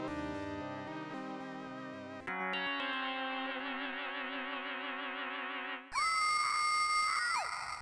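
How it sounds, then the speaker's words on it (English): In the Splatterhouse video game, a face floats up out of a river and lets out a loud, synthesized, warbling scream. It starts as wavering electronic tones and swells into a harsh, echoing shriek for several seconds. "a face comes floating out of the river and lunges at the screen and lets out a scream."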